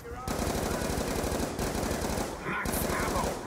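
Sustained rapid automatic gunfire in Call of Duty: Zombies, loud and dense with a rattling rhythm in long bursts broken by brief gaps, game sounds mixed in and no talking.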